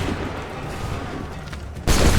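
A musket volley fired on command in the Assassin's Creed III video game: a dense rumble of battle noise, then a sudden loud burst of massed gunfire near the end.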